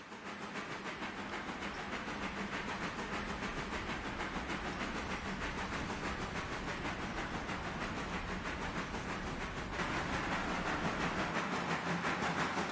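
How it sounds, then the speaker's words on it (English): Passenger and freight trains run in Railroader, a steady faint rumble with rhythmic clicking and a hissing wash that swells slightly toward the end. "Comes the passenger train quickly catching up with our freight train"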